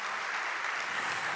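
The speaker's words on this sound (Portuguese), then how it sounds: "receba o aplauso da igreja de uma forma carinhosa" A church congregation applauds warmly at an evening session of a kids and family congress, a steady, even wash of clapping close by with no voices.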